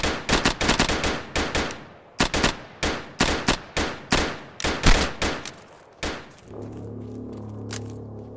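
Rapid bursts of video-game gunfire from an enemy player in a squad battle, a long string of sharp, loud shots in quick uneven volleys that stop abruptly, followed by a low steady hum.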